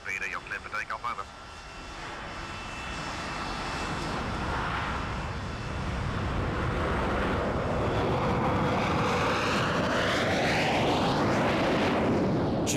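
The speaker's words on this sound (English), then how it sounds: "Comet Yoke Peter took off from London Heathrow, bound for Johannesburg" A 1950s de Havilland Comet jet airliner takes off from London Heathrow, its engine roar building to a loud, sustained rumbling whoosh with a sweeping pitch as it climbs away, after a brief stuttering start.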